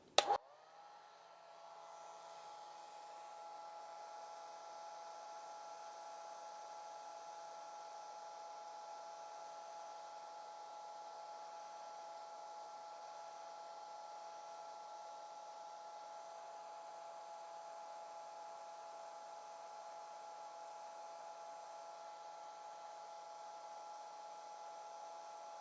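A hair dryer runs steadily and close for almost half a minute, blowing over a watercolor painting of a soaring eagle to dry the wet paint, with a steady hum and whine and no talking.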